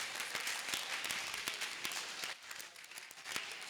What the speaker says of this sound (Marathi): आपण खरोखर जोरदार टाळ्या वाजवून तिचं कौतुक करायला हवं